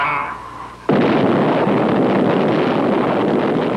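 Nuclear test blast in archival Army footage: after a quieter stretch, a sudden loud broadband roar kicks in and holds steady, a rumbling, wind-buffeted wall of sound.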